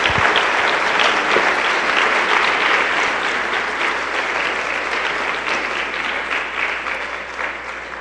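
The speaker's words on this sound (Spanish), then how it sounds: "démosle un fuerte aplauso al Señor" A church congregation claps loudly and steadily for about eight seconds, a dense wash of many hands that fades slightly toward the end.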